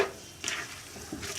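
Onions fry in a pan over medium-high flame with a soft, close sizzle, broken by a few brief stirring scrapes.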